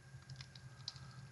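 Quiet keystrokes on a computer keyboard, a handful of soft clicks tapped in quick irregular succession over a low background hum.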